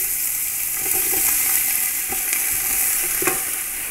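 Chopped onions and shallots fry in hot oil for rabbit biryani, giving a dense, continuous, loud sizzle heard up close, with a few light clinks of a stirring spoon and no talk.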